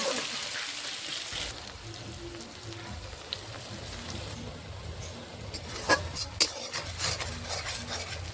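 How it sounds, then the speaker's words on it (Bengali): Onions crackle and hiss softly in hot oil for mutton curry with a steady, rain-like sizzle, broken by a few sharp clinks of a spoon against the pan. "কেটে রাখা পেঁয়াজগুলি তেলের মধ্যে দিয়ে দেব এবং এগুলিকেও খুব ভালোভাবে লাল হওয়া অবধি ভাজতে থাকবো"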